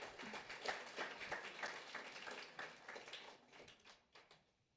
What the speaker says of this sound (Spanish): Un aplauso para que se sienta bien.